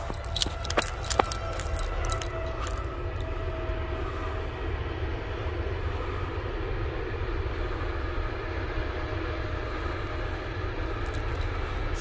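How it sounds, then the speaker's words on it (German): A train passing near a rubble-stone arch Roman bridge in Gerbrunn, a steady loud rumbling roar that fills the whole stretch with a few metallic clicks and rattles at the start. "Da kommt ein Zug."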